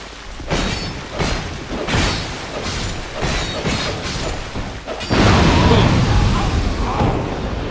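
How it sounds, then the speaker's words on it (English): A barrel exploding after a fire longsword strike in Dark Souls II, a crunchy burst followed by rumbling debris and crackling, under a background of repeated impacts and game noise, loud and close. "Don't hit barrels with a fire longsword. It's a very good way to end up killing yourself."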